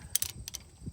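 A 7/16 socket wrench on a front driveshaft bolt of a 1973–87 Chevy/GMC truck, giving a few quick metallic ratcheting clicks close up, then a faint low knock, with no talking.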